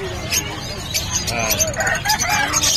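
Pet birds at the Bocaue pet market, including lutino and opaline split birds, fill the stall with near, continuous chirps and clucking calls, steady throughout with faint background voices.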